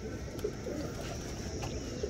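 Pigeons coo in low, soft, repeated murmurs, with a few slightly louder notes over steady ambient noise.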